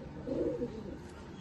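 Pigeons cooing in a loft at a home in Bendel, Chinsurah, a soft low burbling coo rising briefly and fading, close and moderately quiet.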